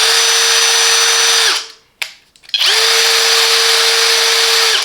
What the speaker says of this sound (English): I have just transformed my cordless drill to a jigsaw.